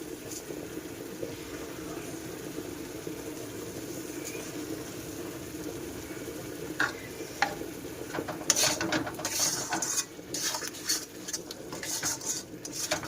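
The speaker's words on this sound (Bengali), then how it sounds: "তো চলো মশলাটা ভালো করে কষিয়ে নিই" Spice masala with turmeric and salt being stirred and fried in a pan, a low bubbling sizzle with scattered scraping and clinking of the spoon against the pan, growing busier toward the end.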